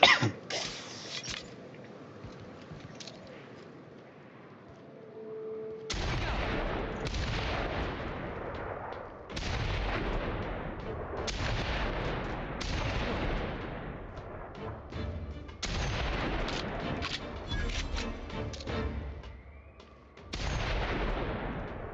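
Sniper rifle shots in The Outer Worlds, a series of sharp loud blasts with long decaying tails, fired roughly every two to three seconds after a quieter opening.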